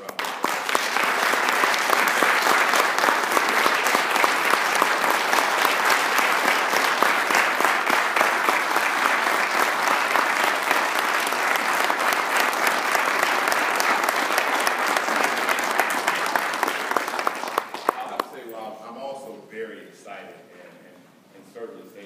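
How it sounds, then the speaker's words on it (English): Audience applause for moot court winners at a law school ceremony with Atlanta City Council recognition, a dense, steady roar of many clapping hands sustained for about seventeen seconds before thinning out and fading. "Let's give them a round of applause."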